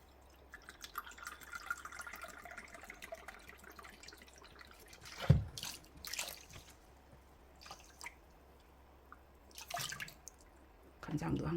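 Soy sauce is poured by the cupful into a marinade for LA-style galbi, giving soft, close dripping and trickling sounds with a few sharper splashes, while a voice talks intermittently.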